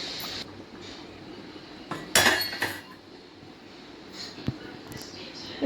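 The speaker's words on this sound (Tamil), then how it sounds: "தோசைக்கல்லை வச்சாச்சு, அதுக்கு மேலே குக்கரை வச்சு இதை நல்லா மூடி விட்டுக்கலாம்." A cast-iron dosa griddle is set down on a home kitchen stove, giving a few clanking metallic knocks and rattles amid quieter kitchen handling, with someone talking.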